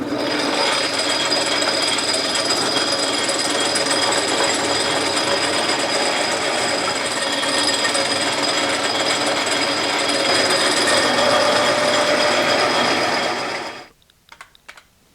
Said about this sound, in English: I'm making the platter now, and I'm going to bore a 1-inch hole in it